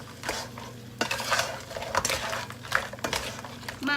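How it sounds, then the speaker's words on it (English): Crab stirred in a pot of yellow curry, a utensil scraping and clinking against the pot in a steady back-and-forth rhythm with a faint sizzle underneath, close up. "I add some crab and stir back and forth"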